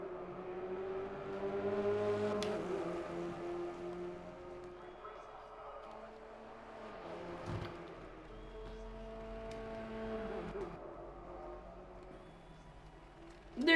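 A Renault Clio Cup race car's engine drones and revs during an online Project CARS race at Snetterton 300, rising and falling through gear changes at moderate level, with a voice talking over it.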